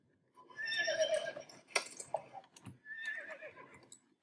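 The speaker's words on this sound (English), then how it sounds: "I can hear your horse rearing." A horse in a horse-riding video game rears and neighs, giving two loud whinnies split by a short pause, with a thudding hoof sound between them.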